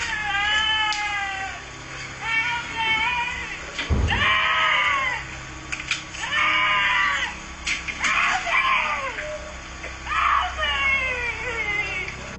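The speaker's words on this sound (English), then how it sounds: "A woman screams out for help as she seemingly walks calmly down the street in front of Oscar's home" Repeated high-pitched, wavering screams from a woman calling for help on a street come in quick bursts, with a dull thump partway through and a faint background hum between cries.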